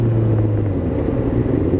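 A Kawasaki ZZR600 motorcycle engine hums close and steady as the rider downshifts, a low droning tone sliding slightly downward.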